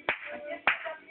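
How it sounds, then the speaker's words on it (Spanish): Two sharp hand claps about half a second apart, close and crisp in a quiet room, used to trigger a homemade sound-activated switch circuit. "Aplaude."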